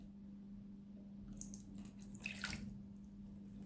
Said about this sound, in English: So I'm going to pour my blue liquid in.